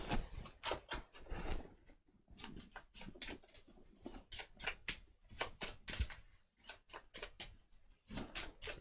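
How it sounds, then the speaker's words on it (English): A deck of game cards for the board game POLIS is shuffled, giving rapid crisp riffles and flicks in quick irregular bursts with brief pauses, close and fairly quiet. "I'll shuffle these cards."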